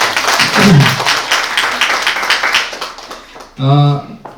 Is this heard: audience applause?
yes